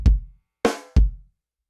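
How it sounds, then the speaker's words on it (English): A mellow kick drum preset from a Boss RC-600 loop station thumps three times, soft and muffled with a deep low boom, the second hit lighter and brighter, with short gaps between. "that's the old kick drum, which is just what's called mellow kick"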